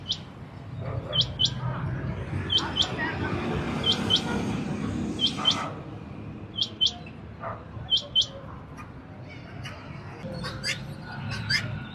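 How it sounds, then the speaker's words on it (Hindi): Pigeons, parrots and other birds at a bird market in Quetta sound off in sharp repeated chirps and tweets over a low murmur of market noise, with a dog whimpering faintly. "तरह तरह की कबूतरे हैं, तोते हैं"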